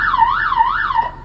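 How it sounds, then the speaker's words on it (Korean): A vehicle siren controller set to police mode sends out a loud, rising-and-falling electronic wail that sweeps steadily up and down several times, close and alone, then cuts off. "경찰 사이렌이 울리게 됩니다."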